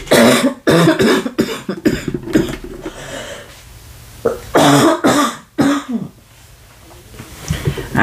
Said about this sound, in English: I have cold. Cough.